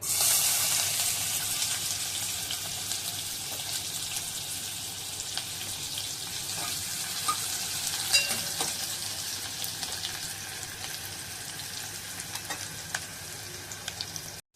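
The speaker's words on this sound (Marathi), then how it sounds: "बारीक कट करून घेतलेला कांदा टाकायचा" Finely chopped onion fries in two to three spoons of hot oil for a Kolhapuri chicken dish, a steady close sizzle that holds throughout, with occasional light clicks of stirring and no talk.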